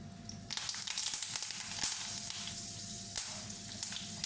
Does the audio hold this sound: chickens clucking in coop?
no